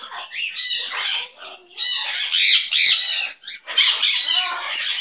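A pet bird squawks and chirps loudly and close up in repeated harsh bursts, with short pauses between calls.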